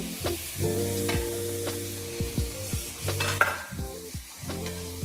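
Mushrooms sizzle in a hot pan while a utensil stirs and scrapes, producing repeated clunks and tonal scraping sounds over the steady frying hiss.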